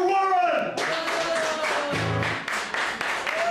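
An audience at a bar-style live music show breaks into applause as a singer is introduced, clapping steady and fairly close, with a voice speaking just before it and a sung note carrying through.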